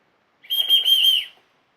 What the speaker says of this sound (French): Donc c'est un sifflet pour appeler les chiens.